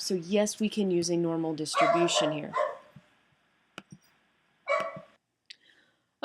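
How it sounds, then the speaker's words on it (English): A dog barks a few scattered, faint times in the background, mostly after a person finishes speaking, with sharp isolated yips between quiet gaps. "I apologize for the dog barking in the background."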